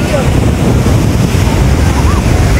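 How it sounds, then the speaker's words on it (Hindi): Sea waves rush onto Manora beach in Karachi at dusk, a loud continuous wash of surf churned by heavy wind buffeting the microphone, with voices mixed into the roar. "पानी इतने स्पीड से आ रहा है ना और खींच के लेके जा रहा है"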